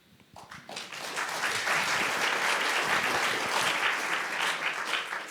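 Audience applause at a public discussion event at the San Francisco Public Library swells quickly and carries on steadily for several seconds, dense clapping from a sizeable room.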